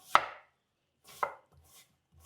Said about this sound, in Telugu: మరీ చిన్న చిన్న ముక్కలు కాకుండా ఇలా పీసెస్ కట్ చేసుకోండి